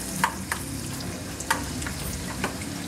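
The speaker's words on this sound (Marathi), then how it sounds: "तेल गरम झालेलं आहे, आता आपण त्याच्यात ठेसलेला लसूण टाकूया." Crushed garlic goes into hot oil and sizzles steadily, with several sharp crackles and spatters spaced through it and stirring scrapes. Close up and moderately loud, with no voices.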